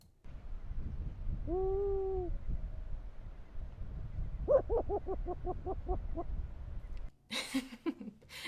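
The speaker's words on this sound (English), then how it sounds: "I want to let you guys hear and experience the sound of a burrowing owl." A burrowing owl in Nevada calls with a rapid, chuckling series of hoots, preceded by a drawn-out wavering note, over steady background noise.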